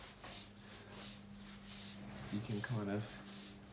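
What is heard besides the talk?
scrubbing a bonsai pot with a scrubber sponge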